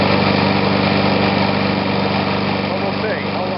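An old Snapper push mower's small engine runs steadily and loud up close, a constant droning hum with a rattly low pulse and no breaks in the sound.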